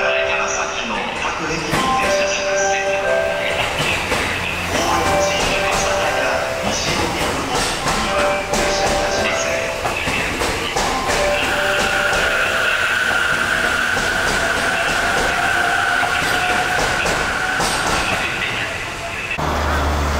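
A special limited express train passing through Ochanomizu station in Tokyo, a steady loud rumble of rail wheels with squealing, sustained tones, with construction work around and an announcement voice over it.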